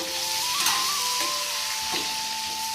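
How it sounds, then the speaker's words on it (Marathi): Stuffed brinjal frying in an oiled pan, a constant close sizzle with a few faint clinks, alone and steady throughout. "चांगले असे फ्राय करून घ्यायची एकदम लाल होईपर्यंत"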